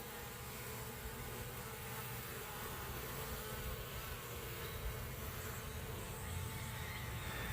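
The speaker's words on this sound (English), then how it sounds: "The angry bees." Angry bees swarm and buzz around an open hive, a dense, continuous droning hum filling the air at a fairly low level with no voices.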